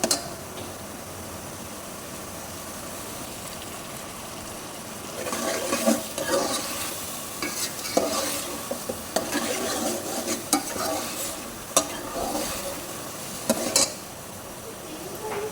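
Masala for prawn pulao stirred and fried in a pot, a steady scraping spoon over a soft sizzle with sharper clinks of metal against the pan now and then, close and moderately loud with no talking.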